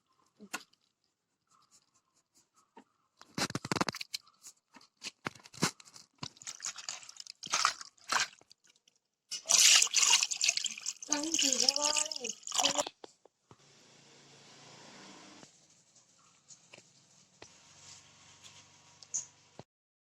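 Fish are washed in water: splashing and sloshing with wet handling sounds in short bursts, then a steady running trickle toward the end.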